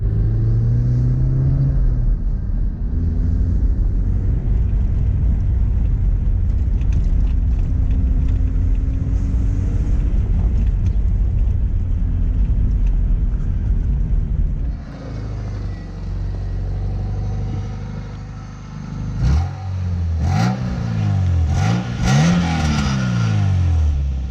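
A car engine with an exhaust leak rumbles and revs while driving, with a raspy, rough exhaust note, rising and falling through gear changes, loud and close throughout.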